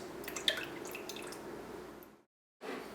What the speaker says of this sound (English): To that, I'm going to add in a 1/2 cup of hot sauce.